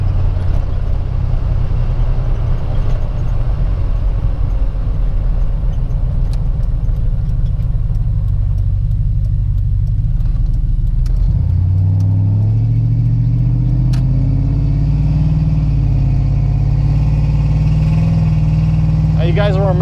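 A 2000 Dodge Durango four-wheel drive with a 4.7 liter V8 drives along with a steady low engine rumble and road noise, the tone shifting as it changes speed partway through, while a person talks over it.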